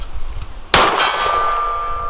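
A 115-grain pistol bullet from a Springfield SA-35 strikes a steel gong target at 50 yards, giving one sharp metallic clang that rings on with a long sustained tone over faint background noise.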